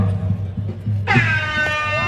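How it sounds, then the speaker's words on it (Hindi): An air horn hooter blasts at a kabaddi semifinal match, starting about a second in as a loud, sustained tonal blare that holds steady to the end over low crowd murmur. "वो भोपू की आवाज है"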